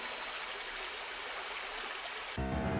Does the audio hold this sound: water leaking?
yes